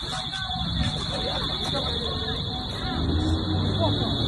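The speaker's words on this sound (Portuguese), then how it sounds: "O alarme tocou e eles foram embora." A store alarm rings during looting, a steady high-pitched buzzing tone that continues throughout, mixed with street noise and people talking in the background.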